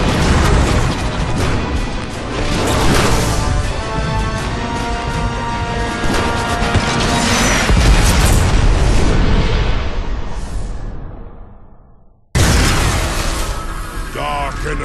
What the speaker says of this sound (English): Ram this warship straight into the heart of that station!